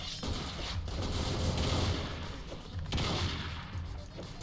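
Shotgun fire in the game Madness Project Nexus, a dense loud barrage of blasts and impacts packed together over a few seconds, with no talking.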